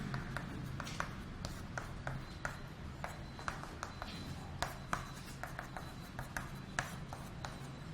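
Chalk or marker scratching and tapping on a board in a physics lecture on electrostatic potential, a steady run of short strokes close by, with faint speech in the background.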